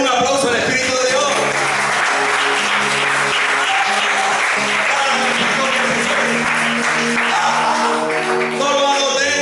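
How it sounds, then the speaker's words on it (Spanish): Loud congregational applause at a Spanish-language church service, mixed with cheering voices and music-like sustained tones beneath, holding steady throughout before easing slightly near the end. "Den un aplauso al Espíritu de Dios."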